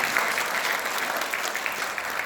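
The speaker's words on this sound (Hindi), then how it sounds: "ताली बजा दो भी सबके" Steady applause from a large audience at a motivational class, dense and continuous clapping throughout with no voices standing out.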